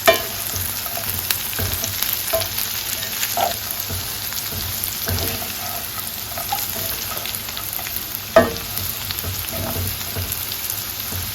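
Skillet home-fried potatoes sizzle steadily in a hot pan while a utensil stirs and scrapes through them, with a few sharper clanks against the pan; close and continuous, with no talking.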